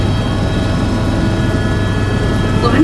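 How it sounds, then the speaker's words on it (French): Steady loud rotor and engine drone of a Bell 407 helicopter flying over Niagara Falls, a constant low rumble with a faint high whine above it. "我们乘坐的是贝尔森07直升机，这是世界上同类别中最安静的直升飞机"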